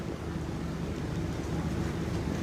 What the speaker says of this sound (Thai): ตอนนี้ลมเริ่มหยุด แต่ว่าฝนก็ตกหนักขึ้นเรื่อยๆนะครับ